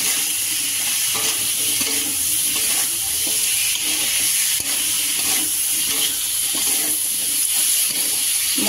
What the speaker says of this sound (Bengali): এটা দিয়ে মশলাটা কষানো হবে আলুর সাথে।